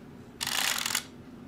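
A karakuri puppet's clockwork mechanism, like a music-box movement, springs into motion once its stopper switch is released: a short, close, rapid ratcheting whirr lasting about half a second over faint room noise.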